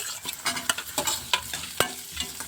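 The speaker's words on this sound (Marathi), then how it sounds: "आता हे पण आपण हे कांद्यामध्ये परतून घेऊ चांगलं" Sliced beetroot and onion sauté in a pan, with a steady sizzle broken by repeated stirring scrapes and clacks of a spoon, close up and without talking.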